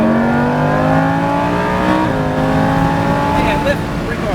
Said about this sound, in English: Roll on a little throttle, a little more, a little more, a little more.